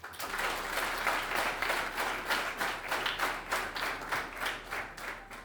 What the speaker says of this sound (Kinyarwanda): tumwakiriza amashyi n'impundu